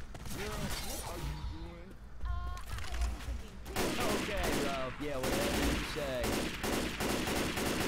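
Rapid, sustained gunfire from a Left 4 Dead 2 firefight inside a building, constant and close with dense overlapping shots and brief tonal effects throughout.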